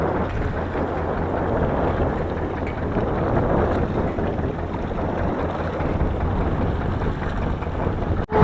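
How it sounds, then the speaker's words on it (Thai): Strong wind buffets the microphone aboard a small fishing boat at sea, a steady loud rushing roar with broadband gusts lasting throughout, ending in a brief thump. "วันนี้ลมจะแรงหน่อยนะครับ"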